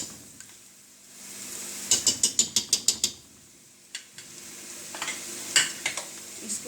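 Onions with ginger garlic paste are stirred in a hot pan for Lahori chikar cholay, with a soft background sizzle and a quick series of sharp spoon scrapes and clinks, followed by a few scattered taps.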